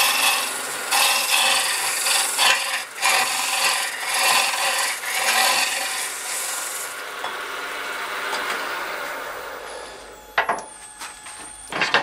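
A wood lathe tool cuts into a spinning hollow form during roughing, giving a loud, continuous scraping rasp with rhythmic pulses, which eases off as the lathe slows near the end.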